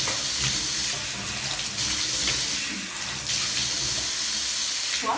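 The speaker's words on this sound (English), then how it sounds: "So it's now time to wash our face." A bathroom tap runs steadily into a sink as water is used to wash a face, a continuous close splashing flow with small shifts in the stream and no talking.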